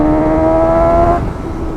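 Suzuki GSX-S 750 motorcycle engine accelerating hard, a loud, close, steady rising drone with strong harmonics that drops off sharply near the end as the throttle eases.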